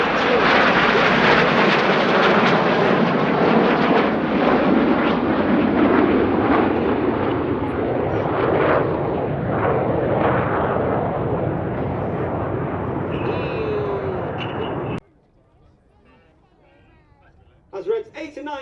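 Red Arrows display jets at the Sywell airshow roar overhead in a loud, sustained wash of engine noise that fades slowly before cutting out, with an announcer talking over it throughout.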